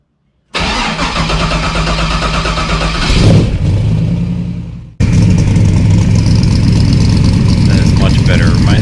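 A C3 Corvette with an LS engine swap and new sidepipe exhaust cranks and fires, then settles into a loud, close, rumbling idle that carries on steadily to the end.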